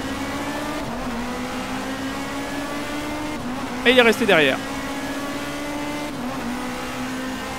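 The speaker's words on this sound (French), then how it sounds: "vous avez entendu le moteur. Les sons sont vraiment bien faits." Race car engine from the Touring Car World mod for GTR2, a steady droning hum running throughout, with a brief louder rising engine burst near the middle and someone talking over it.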